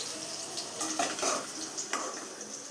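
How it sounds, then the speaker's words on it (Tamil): Bitter gourd pieces fry and sizzle steadily in hot groundnut oil, with a spoon stirring and scraping the pan now and then. "கடலெண்ணெய், பாகக்காய் போட்டு நல்லா வணக்கிக்கலாம்."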